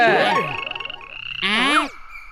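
A cartoon frog croaks twice, each a loud warbling, pitch-bending call, separated by a short rattling buzz, with no talking.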